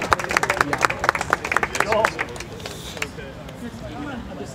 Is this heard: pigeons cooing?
no